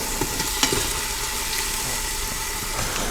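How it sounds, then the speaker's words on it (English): Onions fry and sizzle in an Instant Pot beside turkey breast, a dense, even crackle heard up close with a few brief scraping stirs, and no speech. "Onions are gonna caramelize down there."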